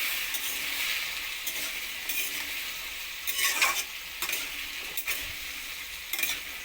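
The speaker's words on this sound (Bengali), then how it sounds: "সমস্ত পেঁপে আলুটা কেটে রাখা পেঁপে আলুটা আমি দিয়ে দিয়েছি একটু ভেজে নেবো সামান্য" Cut papaya and potato pieces fry in a pan, giving a soft steady sizzle broken by intermittent scraping as they are stirred, fairly quiet and with no talking.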